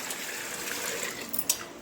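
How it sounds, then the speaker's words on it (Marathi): Water pours into a pan of cooking pav bhaji vegetables (peas and carrots) with a steady splashing rush, close by, ending in a few brief spatters. "आता पाणी ऍड करूयात"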